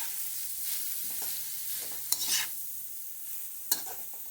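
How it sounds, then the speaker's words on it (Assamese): Grated carrots fry in ghee with a soft steady sizzle, broken by a few sharp scrapes and clinks of a spoon stirring against the pan. "এতিয়া সেই একেখিনি ঘিউতে মই গাজৰখিনি দি দিছোঁ। এতিয়া গাজৰখিনি লৰাই ল'ম অলপ।"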